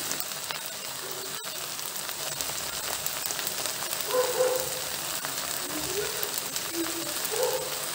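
Okra frying in a pan with chilli powder, a continuous crackling sizzle with a soft hissing texture, at moderate volume, and a faint voice now and then underneath.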